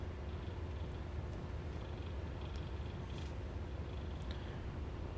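A pet cat purrs in a steady, low, continuous rumble close by, soft but constant throughout, with faint clicks from the room and no speech.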